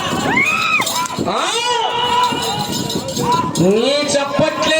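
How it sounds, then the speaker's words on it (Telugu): A crowd at a village bull-race event shouts and cheers loudly, with whoops and overlapping voices rising and falling throughout, densest near the start and toward the end. "కేకలు చప్పట్లు రావాలా"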